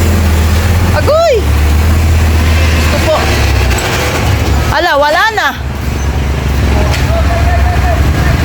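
A large truck rumbles past on a road, a steady heavy engine drone with a rising whoosh as it passes close by. Someone talks over it, and brief higher tonal sounds cut through the traffic noise.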